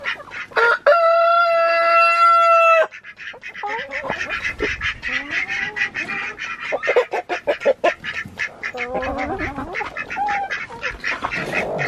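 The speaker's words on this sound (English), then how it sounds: "I think we have a broody hen." Chickens on a farm with a broody hen, crowing and clucking loudly up close, with one long harmonic crow at the start followed by a busy run of overlapping clucks and squawks.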